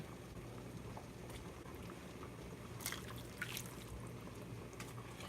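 Pasta water trickles and drips into a pan of pasta, with faint liquid splashes and spatters close by, quiet and alone against a low background hum.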